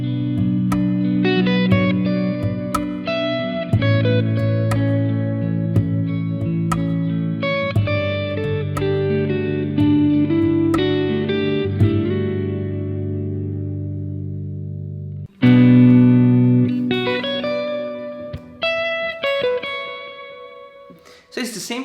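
Electric guitar solo played over a repeating chord progression, with effects and distortion, bright sustained melodic notes and strummed chords continuing steadily, a short pause, then the lead resuming loudly.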